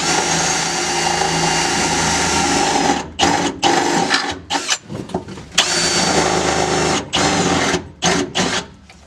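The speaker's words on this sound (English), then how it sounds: "we're going to drill our holes for our safety chain" A power drill whines loudly and steadily, then cuts in and out in short bursts as it bores into metal, with no talking.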